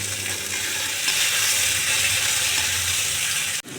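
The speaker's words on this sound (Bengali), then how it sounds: "টমেটোগুলো ভাজা ভাজা হয়ে গেছে সিদ্ধ হয়ে গেছে" Chopped tomatoes fry in a pan with a steady, loud broadband sizzle that holds evenly for several seconds, ending in a brief dip near the close.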